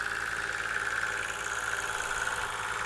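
A homemade garden spraying pump turns by a pulley, driven by a motor salvaged from a water dynamo because its centrifugal pump failed, giving a steady mechanical hum and whine, close and even throughout.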